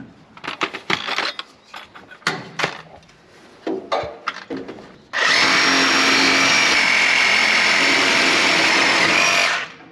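Steel-lined hydraulic hoses on a 1951 GMC COE truck are cut, first with a series of short choppy power-tool bursts, then one loud continuous grinding cut lasting about five seconds, close by and with no talk.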